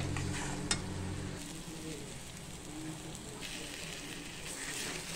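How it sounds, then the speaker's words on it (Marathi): Spice masala fries in oil for a Satara-style mutton curry, giving a steady close sizzle with stirring scrapes and one sharp clink, no one speaking. "अशा प्रकारे आपण आता हे मसाले सगळे परतवून घेणार आहे"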